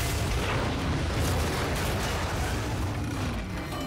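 Constant dense rumble of gunfire and explosions in Battlefield Hardline, loud and continuous, with no clear pauses between shots.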